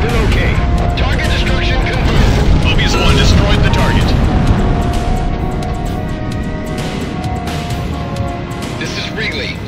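Bombers are destroyed in the Ace Combat 04 flight combat video game, with loud, continuous rumbling explosions and jet roar filling the whole stretch, slowly easing toward the end, under radio chatter.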